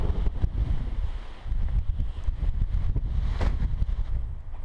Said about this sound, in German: Natürlich ganz guter Wind jetzt gerade.